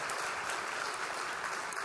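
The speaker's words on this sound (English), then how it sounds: "Give yourselves a round of applause" A large summit audience of over 550 people claps together, a short burst of dense, even applause heard from within the room.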